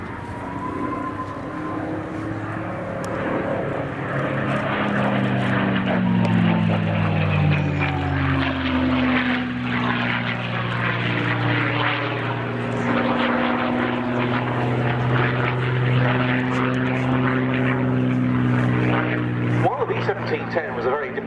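A P-51 Mustang with an Allison V1710 engine roars past at RAF Cosford, its loud propeller drone rising as it approaches and sweeping down in pitch as it passes, steady and close throughout.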